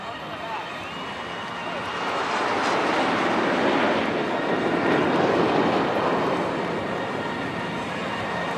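Indian Air Force aircraft fly in formation during an anniversary aerial display, a broad continuous jet roar swelling louder midway and holding steady, with a commentator's voice over it.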